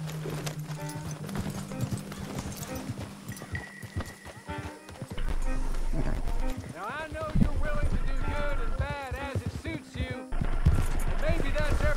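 Horse hooves galloping in Red Dead Redemption 2, a fast, steady clip-clop running through the scene amid game music and effects, with characters talking over it.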